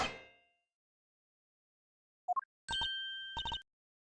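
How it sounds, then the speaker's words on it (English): Gunshot from an in-game tape recording in Ace Attorney Investigations: a short sharp report followed by a few bright electronic chiming tones, alone with no talk. "That was a gunshot."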